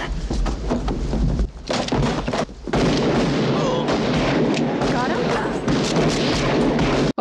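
Gunshots from the western film Unforgiven, several sharp booming reports scattered through a dense movie soundtrack, loud and mixed with voices and background noise.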